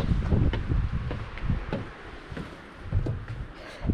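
Gusty wind in a Spanish desert buffets the microphone with loud, close, low rumbling bursts. The gusts come and go in uneven waves, with brief quieter gaps between them.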